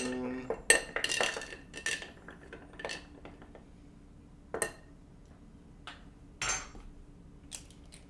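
A bar spoon clinks against a glass as a drink is stirred. Sharp metallic taps and chinks come in irregular clusters, close and fairly quiet, with short pauses between them.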